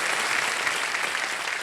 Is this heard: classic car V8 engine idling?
no